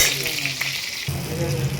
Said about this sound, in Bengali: এই যে লম্বা লম্বা বেগুনগুলোকে ভাজবো